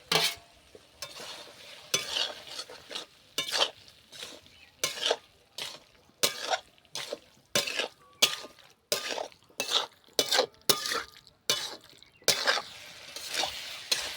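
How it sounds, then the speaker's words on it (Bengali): Fried potato and cucumber tossed through spice masala in a pan for a Bengali cucumber ghonto: a quick series of distinct, fairly close scraping stirs, roughly one per second, over a quiet background with no voices. "দিয়ে ভালো করে নেড়ে চেড়ে কষে নিচ্ছি।"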